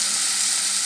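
Mustard seeds sizzle in hot oil for a Marathi drumstick and potato bhaji, a steady, close, bright hiss with no pauses and no voices.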